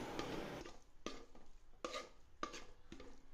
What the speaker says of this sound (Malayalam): ഞാനിത് ഒറ്റ കൈ കൊണ്ട് ചെയ്യുന്നതുകൊണ്ടാണ് പാത്രവും ഒക്കെപ്പാടി ഇളകുന്നത് കേട്ടോ